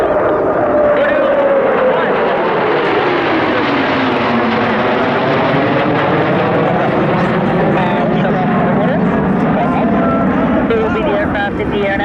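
USAF F-15 Eagle jet landing at the London airshow, a loud sustained engine roar with a slowly falling then rising whine as it passes, filling the whole stretch.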